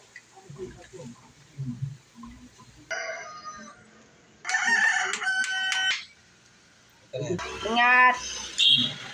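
Roosters crow loudly several times among chickens in a coop being fitted with CCTV, the long strained calls rising over clucking, with people talking in between.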